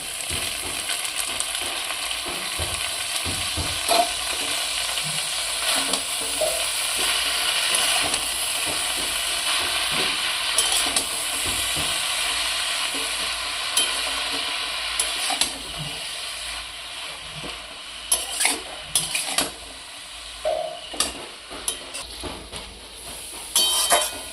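Spinach and snails fry with spices in a pan, giving a steady sizzle and hiss with scraping stirs and clinks, which grow more frequent toward the end.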